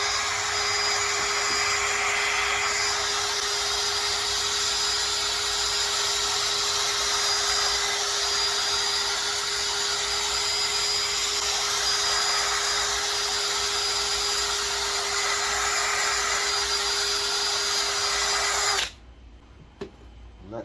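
A power buffer polishes a bass guitar body, giving a steady high-pitched whining motor with a constant hum and a grinding hiss from the buffing pad, close and loud, cutting off abruptly near the end.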